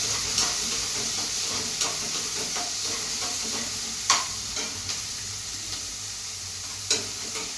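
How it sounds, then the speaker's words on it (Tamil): Onions sauté in a pan with a continuous sizzling hiss, punctuated by occasional sharp pops and crackles from the hot oil, steady and close. "நல்லா வதக்கிக்கிறேன்"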